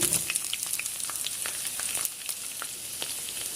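Chopped onion hits hot oil already holding mustard seeds, a dried red chilli and curry leaves over medium flame, producing a loud, close, continuous frying hiss with scattered sharp pops and crackles.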